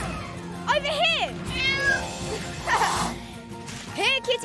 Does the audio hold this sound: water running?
no